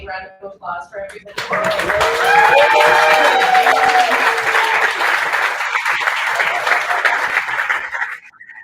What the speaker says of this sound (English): Can we get one more big round of applause for everybody?